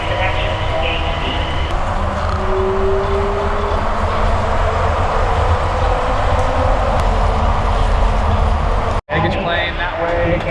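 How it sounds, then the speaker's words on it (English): An airport people-mover train rumbles and hums steadily as it departs, loud and close from inside the car, with a brief sharp dropout near the end and faint voices under the noise. "The train is departing."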